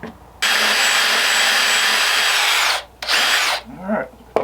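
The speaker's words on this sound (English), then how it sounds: "I took just a Dremel bit on my cordless drill, and I wanted to make a little dome" A cordless drill fitted with a Dremel bit whirs loudly and steadily while carving a Halloween prop, running for a long burst, stopping, then revving in two shorter bursts close up.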